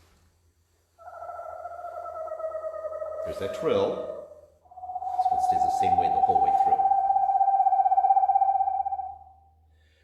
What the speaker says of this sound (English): the actual whistling of the screech owl, recording of it. Eastern screech owl.